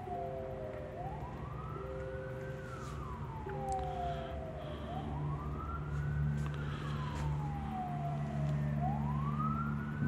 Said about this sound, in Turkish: Amerikan sirenalı.